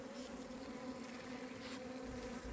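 Honeybees buzz steadily and close around syrup put out for feeding at hives in the Peruvian highlands, a faint continuous insect drone with no pauses.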